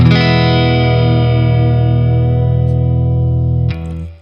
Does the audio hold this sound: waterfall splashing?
no